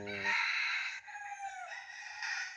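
A mestizo rooster, sired by a labuyo (wild junglefowl) out of a bantam hen, gives one close, loud crow with a harsh opening that stretches into a long wavering call. No voices are heard.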